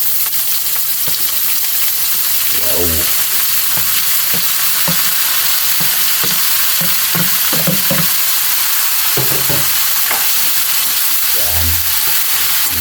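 Chopped liver and heart sauté in a hot pan for Filipino bopis, giving a steady bright sizzle and hiss with intermittent scraping and clattering stirring strokes throughout, close and loud, with no talking.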